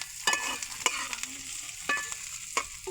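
Onions frying in oil are stirred in a pan, a steady sizzle broken by several sharp scraping strokes of the spoon, close and fairly loud, with no voices.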